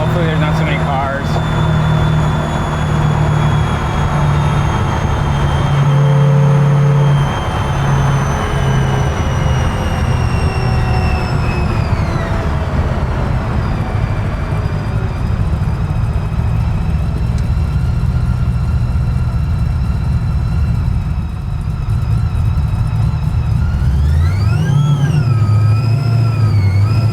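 A 1969 Chevelle restomod with a 1,000-horsepower supercharged 427 LS engine drives on a public road, its loud engine droning and rising in pitch through acceleration, easing off, then climbing again near the end, with supercharger whine heard from inside the car.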